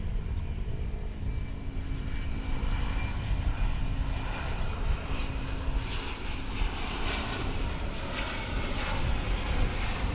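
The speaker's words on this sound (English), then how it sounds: "That's pretty much more of a taxi than a takeoff." Airplane taxiing at DFW International Airport, giving a continuous low engine rumble with a faint whine on top, steady and moderately distant throughout with no talk.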